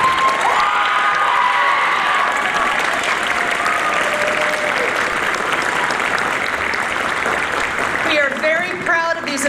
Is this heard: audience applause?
yes